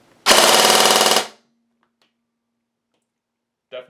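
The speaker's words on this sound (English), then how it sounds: "now let's do a quick test on full auto." A G&G airsoft gun with a new high-power motor fires one loud, dense full-auto burst of about one second, followed by near silence and a brief click at the end.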